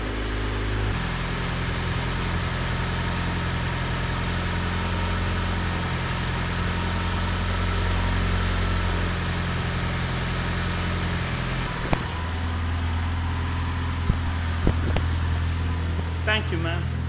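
A Honda Civic turbo engine idles steadily while warming up, a low, constant rumble running throughout with a few brief clicks and knocks near the end; people talk nearby over the engine.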